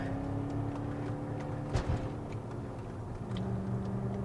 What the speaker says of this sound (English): V8, obviously torquey, throaty, sounds good